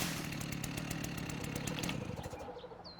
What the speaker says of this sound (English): Love the chainsaw.